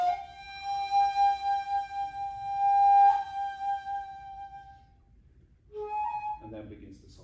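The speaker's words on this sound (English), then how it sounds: "the shamisen is doing quite a light attack on the strings, so not too powerful" A sankyoku passage on shamisen and shakuhachi, a long sustained flute-like tone wavering gently, then fading to near silence before a few lightly plucked string notes enter.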